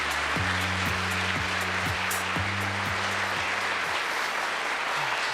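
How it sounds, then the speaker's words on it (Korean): Audience applause at a Korean government policy presentation event, steady dense clapping filling the room throughout with no voices over it. "큰 박수 부탁드립니다."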